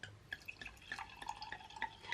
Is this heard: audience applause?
no